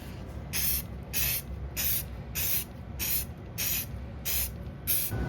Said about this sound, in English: I'm just gonna spray it from the top with some of this gray primer